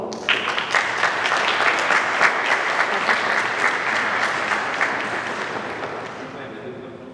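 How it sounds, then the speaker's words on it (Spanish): A conference audience applauds after a presentation on maize and nixtamalization, a dense burst of clapping that holds steady for several seconds and then gradually tapers off. "Un aplauso, por favor."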